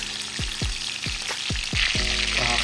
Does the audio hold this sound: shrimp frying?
yes